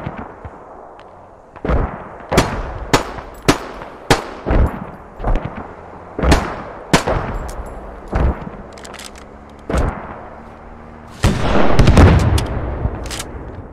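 Gunfire aimed at an MRAP armored vehicle in the military shooter game Squad, a string of sharp, loud shots in irregular bursts, some echoing, closing with a longer heavy blast, with no speech.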